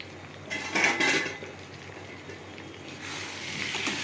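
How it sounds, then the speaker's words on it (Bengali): A metal lid is lifted off a cooking pot of spiced sonkor fish jhal, giving a close clatter of pot and metal, followed by a soft, steady hiss from the pan. "আমি ঢাকাটা খুলি"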